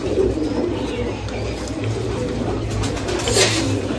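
Domestic pigeons coo in a low, repeated rolling pattern close by, steady through the stretch with a dense flock murmur beneath and a brief brighter chirp near the end.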